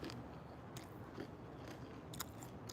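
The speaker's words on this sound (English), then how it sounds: "It's very crunchy." Someone bites into and chews crunchy ripe yellow fruit, quiet close crunches with a few sharper bites standing out over a faint background.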